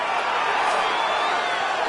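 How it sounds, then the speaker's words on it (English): A fight-arena crowd in EA Sports UFC 5 roars steadily in appreciation after a grueling ground battle, a dense, continuous wash of cheering with no gaps, loud and even for the whole stretch. "the crowd pops in appreciation"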